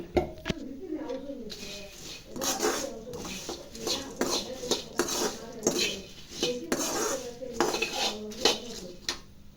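A spoon scrapes and knocks repeatedly against a metal pan while spiced puffed rice (karapori) is tossed and mixed, with rhythmic rasping strokes and clinks close by, and a voice talking faintly in places.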